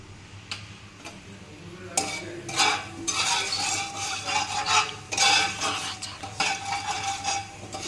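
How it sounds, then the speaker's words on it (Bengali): Whole spices sizzle and crackle in hot oil in a frying pan for a pabda fish bhuna, with bursts of hissing and the scrape of a spoon stirring the pan. "এই যে ফ্রাই প্যানে তেল দিয়েছি, এই যে ফোড়নটা দিয়ে দিলাম।"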